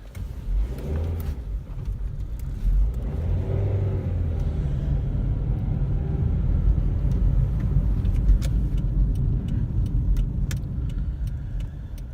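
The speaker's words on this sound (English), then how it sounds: "I'll stop talking so you can try to listen to the car" Toyota Corolla with a suspected failing clutch driving around the block, its engine rumbling steadily from inside the cabin with revving rises and shifts, plus a few clicks and rattles near the end, no talking.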